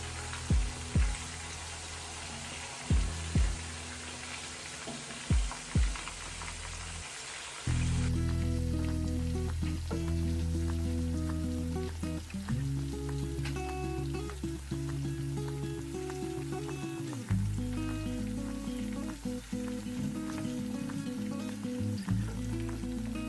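Chicken sizzling and frying in oil in a pan, a Kerala-style village chicken fry, with a few sharp drips at first, then a loud, steady crackling hiss as the pieces turn, continuing close and unbroken.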